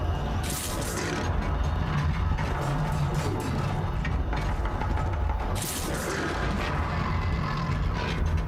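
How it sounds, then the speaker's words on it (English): A Ravager machine in Horizon Zero Dawn fires its cannon in heavy, continuous booming bursts with crashing impacts and mechanical clatter, loud and dense throughout. "He has power cells on his back and a cannon."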